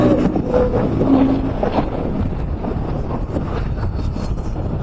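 A KTM Duke 160 motorcycle being ridden, its engine a steady low rumble mixed with wind buffeting the microphone, loud and continuous throughout with no talk.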